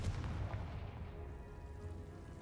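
A Confringo spell blast in Hogwarts Legacy comes through as a faint, low, rumbling boom with a muffled rolling tail, heard alone and at a distance.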